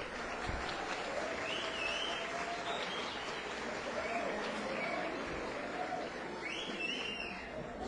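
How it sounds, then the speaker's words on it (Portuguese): An audience applauds at a special session of the Criciúma municipal council chamber in Brazil, a steady wash of clapping that holds throughout at moderate level with some voices mixed in. "Uma salva de palmas."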